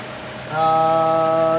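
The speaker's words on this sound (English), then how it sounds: "There you can see inline 4-cylinder variable valve timed engine." Inline four-cylinder variable valve timing engine of a 2014 Toyota Corolla S idling, heard close with the hood open, a steady hum with tonal whine that sets in partway through and holds evenly.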